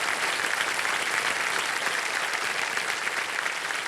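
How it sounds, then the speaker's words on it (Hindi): Studio audience applause fills a game show stage as guests, the producer of the film Kantara, are welcomed; steady, dense clapping throughout, loud and continuous without talk. "तो बहुत बहुत तालियों के साथ आपका स्वागत।"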